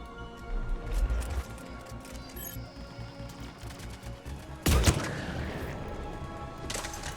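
Gunfire in the video game Mass Effect 3, a loud burst of shots near the start and another sharp blast around the middle, with rapid firing and game noise between them.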